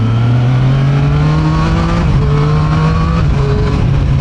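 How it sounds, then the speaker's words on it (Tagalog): Triumph Street Triple RS three-cylinder motorcycle engine revving steadily and loudly up close, with a sustained rising and dipping engine tone and no talk. "Ang sarap tumunog ng 3 cylinder talaga."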